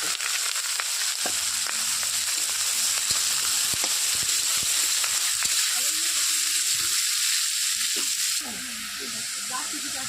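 Chopped bottle gourd and slit green chilies hit hot oil in a frying pan, setting off a loud, steady sizzle with occasional stirring scrapes running throughout.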